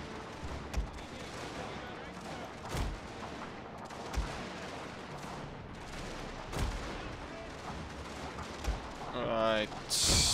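Artillery fires in a Prussia campaign of the Scramble for the Far East strategy game, with scattered booms and crackling gunfire at a steady mid distance while someone talks over them.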